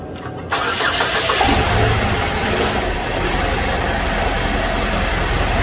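A 2012 Chevrolet Equinox with a misfire cranks and fires up after a brief quiet moment, then settles into a steady, fairly loud idle close by.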